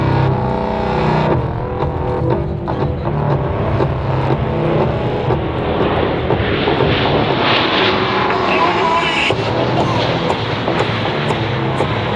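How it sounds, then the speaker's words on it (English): A USAF C-17 transport aircraft flies past at an Australian airshow with a loud, broad engine roar that swells and holds steady throughout, and a public-address announcer is audible beneath it. "the C-17 is now approaching from your left"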